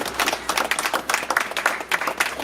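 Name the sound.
applause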